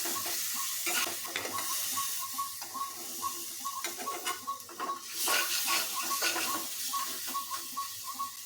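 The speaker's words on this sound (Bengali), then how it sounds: "আমার মশলা ভাজা হয়ে গিয়েছে।" Garam masala spices frying in a pan for stuffed tomato bharta, a steady close sizzle with repeated scraping and stirring strokes and small clicks throughout, no voices.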